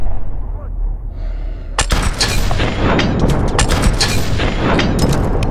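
Gunfire in Call of Duty: Advanced Warfare, a sudden loud burst of rapid shots and booming impacts that keeps going densely after a quieter lead-in, with voices mixed in.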